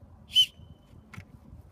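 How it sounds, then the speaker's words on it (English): A small whistle on a paracord bracelet gives one short, shrill, high-pitched blast up close, followed by a fainter second chirp over a quiet background. "The whistle takes a little bit of effort to actually get the sound. Very high-pitched sound."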